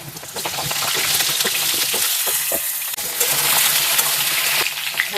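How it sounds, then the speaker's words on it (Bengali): Cut pointed gourd (potol) fries in hot mustard oil, a loud, steady sizzle and crackle with a brief dip partway through and no talking. "এবার এর মধ্যে কেটে ধুয়ে রাখা 500 গ্রাম পটল আমি ভেজে নেব।"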